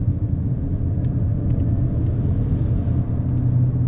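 A Jaecoo J7 AWD SUV accelerating, heard as a steady, loud low engine and road rumble from inside the vehicle that holds without a clear rise in pitch.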